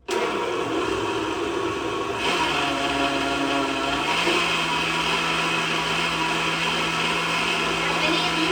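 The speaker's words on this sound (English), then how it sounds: "then we put everything in the blender" A blender whirs loudly and continuously while blending a green smoothie of spinach and pineapple, its motor pitch shifting a couple of times as the contents break down.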